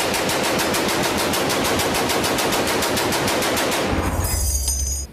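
A Browning M2 heavy machine gun fires a long, loud, unbroken burst of rapid, evenly spaced shots for about four seconds, then the firing stops and a ringing echo lingers at close range.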